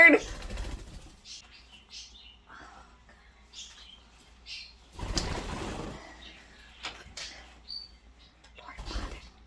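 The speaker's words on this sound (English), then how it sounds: "You devil bird!" A pet bird, likely a pigeon or dove, gives short chirps and coos with bursts of wing flapping, close and fairly quiet, while a person talks intermittently around it.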